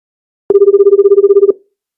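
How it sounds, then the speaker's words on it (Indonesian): A telephone rings once with a steady buzzing trill lasting about a second, loud and close, then cuts off abruptly into silence. "Telepon sudah lama berdering."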